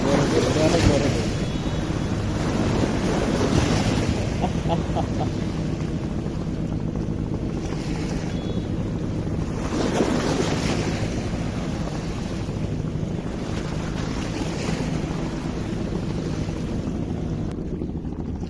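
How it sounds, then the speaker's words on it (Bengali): Waves wash against the Buriganga riverbank in a steady, rolling wash, with wind buffeting the microphone and a voice talking intermittently over it. "এটা অনেক বড় ঢেউ"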